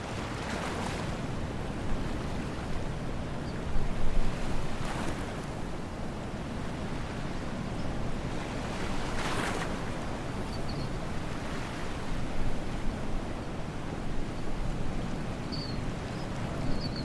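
A sailboat moving through waves, with steady rushing water and wind noise on the microphone and occasional louder swells washing past throughout.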